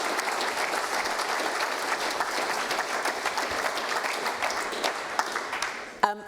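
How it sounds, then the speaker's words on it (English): Steady applause from a seated audience greets a police inclusion panel, dense continuous clapping filling the room for about six seconds before a few final louder claps as it ends abruptly. "let's give them all a round of applause"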